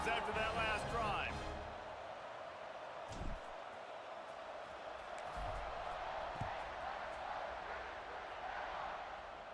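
Stadium crowd in a college football video game, a steady broad roar of fans after a touchdown drive, with a brief voice at the start and a few thumps.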